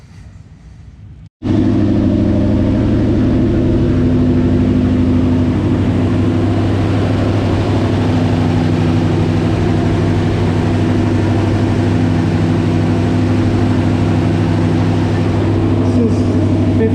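A 1967 Buick with a driveline vibration cruises at about 35 mph. After a brief quiet start, a loud, steady engine and road drone carries on without a break, with deep low rumbling throughout.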